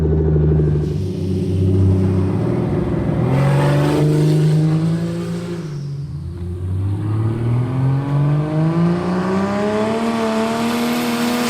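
A Barra-swapped Ford Mustang GT350's engine revs and accelerates steadily, its pitch climbing through the gears, loud and close with no talking.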